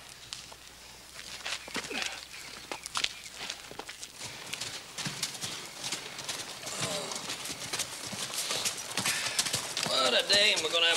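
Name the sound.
horses clip-clopping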